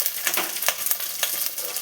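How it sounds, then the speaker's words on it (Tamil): Sliced okra and onion frying in a pan while being stirred, giving a close, steady sizzle with quick scraping stir strokes over a short stretch. "வெங்காயம் சவத்ததும் கட் பண்ணி வச்ச வெண்டைக்காவை போட்டு கிளறணும்."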